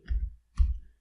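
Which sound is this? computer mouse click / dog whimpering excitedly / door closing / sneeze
computer mouse click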